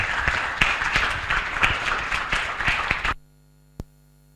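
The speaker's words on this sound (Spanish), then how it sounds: "les pido un aplauso para" Audience applause for a speaker at a talk on the origin of subjectivity, a lively burst of many hands with sharp individual claps, lasting about three seconds before cutting to near silence and one last isolated clap.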